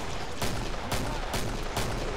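Shotgun blasts in the co-op zombie shooter Killing Floor: four loud, broadband booms spaced roughly half a second apart, each with a short decaying tail over a dense, noisy game background, with no voices.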